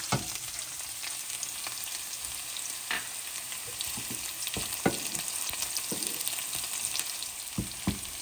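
Onions frying in hot oil with browned fenugreek seeds for a mutton soup, a steady close sizzle with occasional sharp stirring clicks scattered through, no voices.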